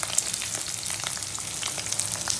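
An egg fries in a pan, a steady bright sizzle with fine crackling spatter throughout, close and alone.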